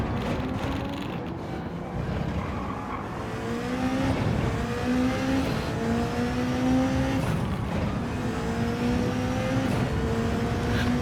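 A BMW hypercar engine in the racing game Gran Turismo 7 drones and revs through gear changes, rising pitch sweeps repeating steadily at moderate loudness with no talk.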